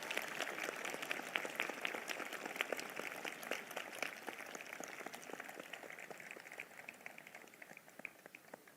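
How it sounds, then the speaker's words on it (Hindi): A congregation at a Christian prophetic ministry service claps in thanks, a broad, steady patter of many hands that fills the hall and gradually thins out, with no speech over it. "जिनको ये बात समझ में आ गई है वो ताली बजाकर धन्यवाद कर रहे हैं"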